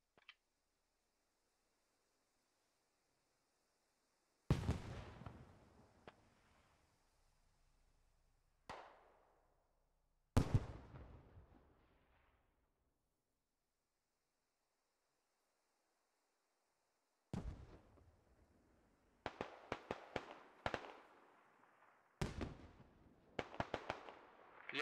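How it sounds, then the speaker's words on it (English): Grenades explode in the tactical shooter game Squad, a series of sharp, loud blasts, each with a crackling decay. They come singly at first, then in quick clusters toward the end, with quiet stretches between. "they are lobbing grenades at us like there's no tomorrow"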